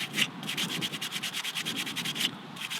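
Rhythmic back-and-forth sanding strokes rasp steadily and close up across a hand-carved silver birch wooden spoon, repeating in an even pattern with no voices.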